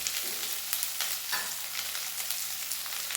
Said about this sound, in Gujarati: એક વખત એને આપણે મિક્સ કરી લઈશું।